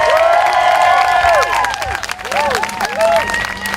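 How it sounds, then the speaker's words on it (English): An audience claps and cheers for a speaker at a live event, a loud, dense wash of applause with rising whoops and shouts throughout. "Everybody, one more round of applause for Dusty."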